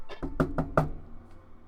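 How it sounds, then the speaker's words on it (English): Knocking on a door at a mage tower during a Dungeons and Dragons session: four quick, close, fairly loud raps in a short burst, then a brief quiet tail with no talking. "Just gonna knock on the doorknobs"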